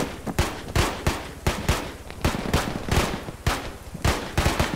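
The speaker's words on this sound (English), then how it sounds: "We're also taking fire from the west" Video game gunfire in a tactical shooter: rapid, loud, close bursts of shots in an uneven rhythm, firing continuously with brief gaps, with no talking over it.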